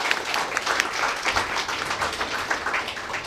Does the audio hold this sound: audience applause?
yes